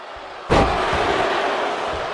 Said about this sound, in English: delivers the Three Amigos, each suplex slamming Jayne hard onto the mat